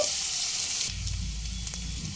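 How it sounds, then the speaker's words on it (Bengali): Chopped onions added to hot oil in a pan, a loud hissing sizzle that drops to a softer, steady frying crackle as the onions settle, with faint stirring and no speech. "ভাজা ভাজা হতে দেব"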